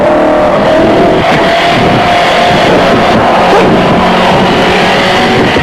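A smooth car driven hard around the Hockenheim circuit, its engine a loud, continuous roar with shifting pitch and broadband road and wind noise throughout, no voices.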